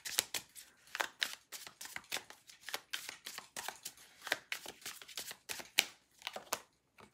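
Tarot cards from an Opium Twin Flame deck being shuffled in a steady stream of quick, crisp riffles and snaps, close and fairly quiet with no talking.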